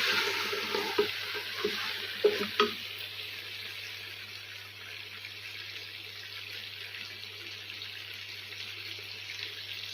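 Spices are stirred into mutton karahi frying in a pan, including fenugreek, whole cumin and garam masala. A steady sizzle continues throughout, with a few sharp knocks of stirring near the start before the frying settles into an even hiss.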